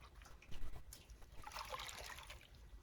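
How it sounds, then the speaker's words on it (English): A table sponge dunked and squeezed in standing sink water while clay mess is cleaned up: soft trickling, dribbling and splashing in close, quiet bursts with no voices. "A few times in the water with a few squeezes."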